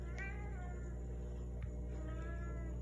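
A Siamese cat meows repeatedly over steady indoor background hum, the cries rising and falling in drawn-out, slightly plaintive calls at moderate distance.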